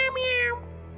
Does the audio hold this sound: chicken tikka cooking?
no